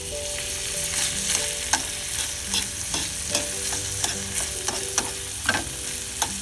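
Chicken korma sauce with cream, butter, cracked pepper, salt and spices stirred in a pot, with a continuous bubbling sizzle broken by repeated scraping strokes of the spoon.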